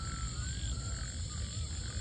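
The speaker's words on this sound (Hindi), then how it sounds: "ये देखो देखो वो मेंढक की आवाज़ आ रही है" Low, continuous croaking and grunting from frogs at night, a dense rumbling chorus that holds steady throughout without any talking.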